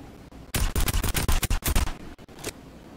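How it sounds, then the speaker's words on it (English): Gunfire in a duos video game match: a quick, loud string of sharp, close shots repeating for about a second and a half, with a couple of fainter clicks afterward. "I found an opening on this player and was able to shoot him."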